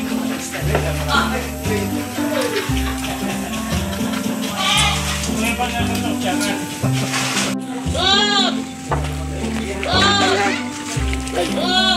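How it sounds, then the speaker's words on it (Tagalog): Goats bleat amid loud party music with a steady beat and voices, the animal calls rising through the dense mix rather than standing alone. "May dalawang kambing pa."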